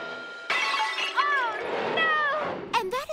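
A statue smashing and shattering in a cartoon, a sudden loud crash followed by scattering breakage, with a character's voice and exclamations over it.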